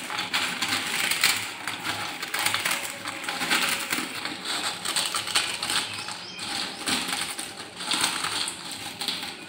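Potato chips crushed by hand for chaat, a dense run of crisp crackling and crunching that stays close and steady from start to finish, with no voices.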